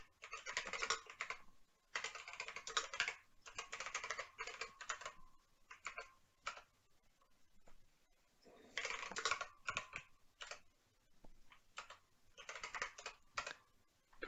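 Rapid bursts of typing on a computer keyboard while entering code, close and fairly loud, with dense clusters of keystrokes separated by short pauses and no talking over it.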